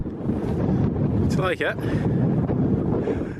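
Strong wind buffeting the microphone on a hilltop in Aberdeenshire, a loud continuous roar with low rumble, as a person briefly speaks partway through.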